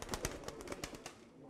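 Fancier-kept pigeons coo in soft, brief pulses, faint and close together, with light rustling over about a second and a half.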